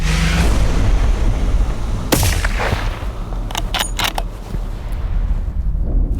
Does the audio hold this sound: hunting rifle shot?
yes